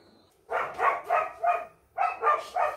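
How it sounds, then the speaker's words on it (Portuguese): A dog barks in quick bursts, three to four close barks, a short pause, then three more, fairly near and clear with no talking over them. "Olha o latido dele."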